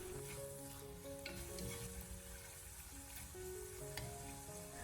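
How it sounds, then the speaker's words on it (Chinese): Pork belly stir-frying over low heat in an oiled clay pot, a quiet, steady sizzle with occasional soft scrapes as it is turned, close but faint and without speech. "再下切好的五花肉，开小火先把它翻炒一下"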